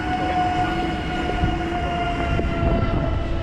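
A train passes with a continuous, fairly loud rolling rumble and a faint steady tonal hum, and a few soft clanks mark the wheels and cars going by.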